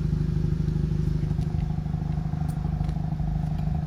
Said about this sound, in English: as you can hear the vehicle's ticking over at the moment